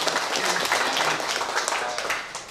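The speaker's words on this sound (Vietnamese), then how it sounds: "Bây giờ bà con mình tặng riêng cho bác sĩ Hồ với đoàn bác sĩ một tràng pháo tay cho đem ánh sáng đến mọi người." A crowd applauds steadily for a visiting charity team of eye surgeons at a hospital, a dense wash of clapping with a few voices mixed in, fading slightly at the end.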